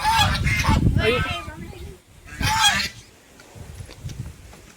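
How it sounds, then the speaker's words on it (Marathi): Ducks at a picnic spot give loud, nasal honking calls in two close bursts, followed by quieter, scattered squawks, with some voices in the background. "बदक बदक"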